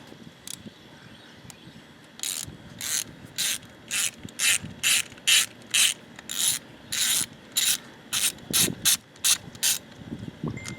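Ratchet clicking in quick repeated bursts while unbolting the coil packs on an Audi A4 2.0 Turbo engine, about a dozen short close strokes in steady rhythm.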